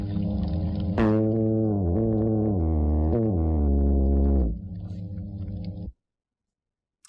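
Underwater recording of a fish growling while establishing a nest: a low, buzzy, tonal growl lasting about three and a half seconds, wavering slightly in pitch, then fading into quiet background.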